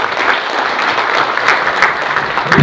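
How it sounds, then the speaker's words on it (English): An audience at a community conversation in a dome theater applauds the local chamber of commerce, a steady round of clapping that holds at an even, fairly loud level throughout with no talk over it. "Just wanted to give the chamber a round of applause for that."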